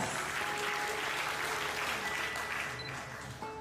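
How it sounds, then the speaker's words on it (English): Audience applause fills a summit hall at the Telkomsel Annual International Summit 2025, a dense, steady wash of many hands clapping close and loud, tapering slightly near the end. "Let's give a big round of applause for all of us."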